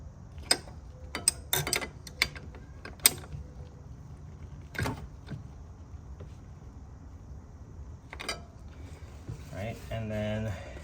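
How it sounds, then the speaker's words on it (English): Flare nut wrench snugging ABS brake line fittings on a 1991-1999 Acura NSX during an ABS upgrade, heard as sharp, scattered metallic clicks and ratchety creaks close up, in short bursts with gaps between them. "grab your flare nut wrench and give them all a snug"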